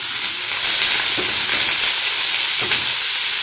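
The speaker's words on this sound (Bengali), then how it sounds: "এদিকে আমি রুটি ফুলকপি ভাজা করব, ওই জন্য চলে এসেছি রান্নাঘরে।" Cauliflower and potatoes frying in a kitchen pan, a steady loud sizzle with two brief stirring scrapes, no talk.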